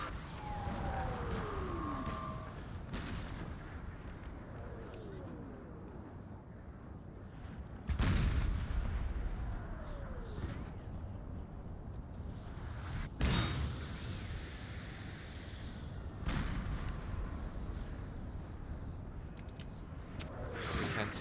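Napoleon cannons fire in an American Civil War battle game, several deep booming blasts spaced a few seconds apart, each with a rumbling tail, over a steady low battlefield din.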